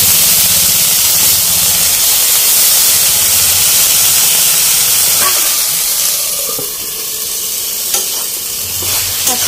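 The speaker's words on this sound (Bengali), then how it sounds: "আর এই যে পাশে বেগুন ভাজা বসিয়েছি।" Eggplant slices fry in oil with a loud, continuous sizzle and hiss close by, with occasional stirring and utensil sounds and no talking.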